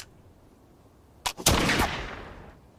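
A smoothbore flintlock musket, cocked to full and fired at a target about 10 meters away: a sharp crack, then a loud blast that rolls off slowly, all of it heard alone outdoors.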